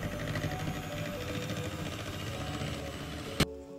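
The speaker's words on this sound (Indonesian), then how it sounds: "Jika menggunakan mixer ini, durasinya itu cukup sekitar 5 menit saja." Electric mixer whipping two egg whites until thick and stiff, a steady close mechanical whir running continuously with a brief clack near the end as it stops.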